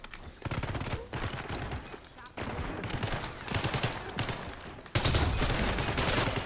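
Dual-wielded submachine guns blaze in a video game, dense rapid bursts of gunfire running almost continuously, moderately loud, with a heavier volley near the end.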